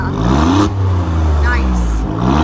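A 2020 Alfa Romeo Giulia Quadrifoglio in dynamic drive mode gives a loud, deep engine drone that rises and shifts in pitch as it revs, heard close from inside the car.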